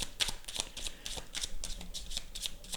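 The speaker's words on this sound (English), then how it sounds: "Seems like I have to do a lot of shuffling today." Tarot cards being shuffled by hand, close and crisp, with rapid repeated riffling bursts in a steady rhythm and no talking.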